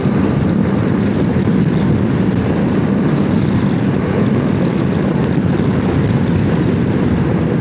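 A CFMoto 650MT motorcycle ridden along a road, with a steady low engine drone and heavy wind rush filling the whole span, constant and loud without pauses.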